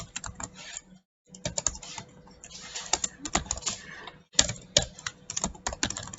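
Rapid, uneven clatter of code being typed on a computer keyboard, with dense bursts of keystrokes broken by two short pauses, close and moderately quiet.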